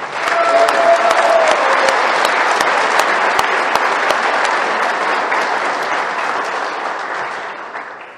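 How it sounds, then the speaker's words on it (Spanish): A press conference audience gives a warm round of applause for a leader, loud and sustained dense clapping from many hands that carries on without a break and tapers slightly at the very end. "me voy a permitir pedirles un caluroso aplauso a todos"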